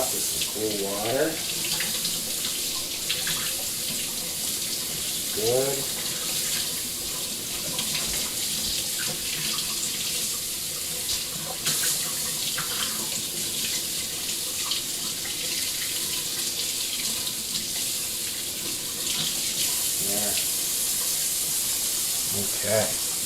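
Cool tap water runs steadily into a sink, rinsing a brined brisket for pastrami, with a constant close splashing rush and occasional short remarks from a person over it.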